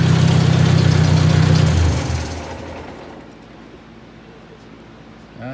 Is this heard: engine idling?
yes